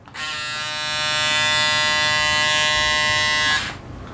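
A Braun Series 5 electric shaver switches on and buzzes at a steady high pitch for about three seconds, close and fairly loud, then switches off.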